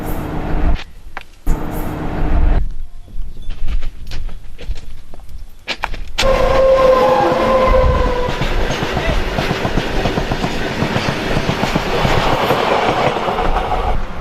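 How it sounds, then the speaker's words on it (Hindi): A train approaches on the tracks in a dramatic film scene: a few sharp bursts at first, then a loud, steady clattering rumble that swells and fills the rest of the clip. "अरे देख ट्रेन आ रही है, मरेगी क्या?"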